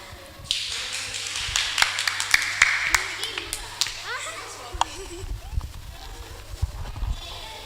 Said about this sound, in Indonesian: sekali lagi berikan tepuk tangan yang meriah untuk peserta dengan nomor undian 5